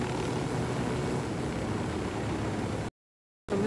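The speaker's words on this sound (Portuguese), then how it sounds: "Já tá pegando cena fumaça esse helicóptero" A helicopter in the video game Ghost Recon Wildlands gives off a steady, rushing engine and rotor drone at moderate level, with no speech, before the sound cuts out briefly near the end.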